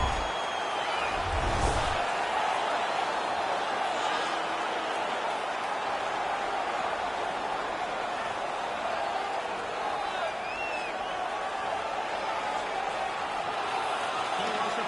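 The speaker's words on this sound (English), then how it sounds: "The crowd is ecstatic." An arena crowd at an ice hockey video game set at the 2016 World Cup in Toronto roars in a steady, dense wash of cheering, with a commentator talking over it.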